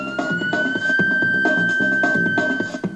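A police siren wails with a high sustained tone over pulsing background music, loud and continuous.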